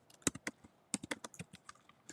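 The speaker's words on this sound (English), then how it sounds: "Are you typing that in?" Fingers type on a computer keyboard in quick irregular bursts of crisp clicking keystrokes, close and clear with no talking.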